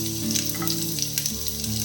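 Chopped garlic fries in hot oil on a high flame, a loud close sizzle with steady crackle and faint spatters throughout the short stretch, no voices.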